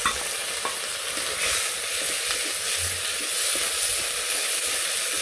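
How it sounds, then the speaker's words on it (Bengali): Green chilies and ginger-garlic paste hit hot oil in a pan for a stinging catfish dish, giving a steady, close, loud sizzle with light stirring throughout. "একটু লালচা করে ভেজে নিয়ে এর মধ্যে কাঁচামরিচ আর আদা রসুন বাটা দিয়ে দিলাম"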